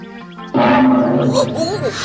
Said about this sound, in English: This is a tiger. That's a tiger.